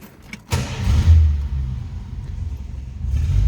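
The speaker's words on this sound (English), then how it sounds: "Let's go ahead and fire it up." A 1954 Chevrolet 210 car engine cranks and catches, then settles into a loud, steady low rumble that swells slightly near the end.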